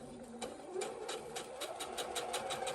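A sewing machine stitches fabric for an oven mitt, its rapid regular needle clatter running steadily up close, with a few short pauses and no talk.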